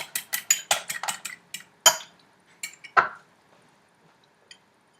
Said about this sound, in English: Want to mix that up good.